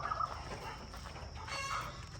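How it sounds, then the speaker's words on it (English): Chickens on a small farm in Ghana cluck faintly and briefly in the early morning, a few soft calls over low background noise, with no one talking. "it sounds like the chickens are trying to lay eggs for us already"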